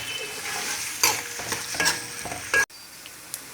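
Onions sizzle and crackle in hot oil in a pan, with steady frying hiss and a few louder stirring scrapes, close up and without talk.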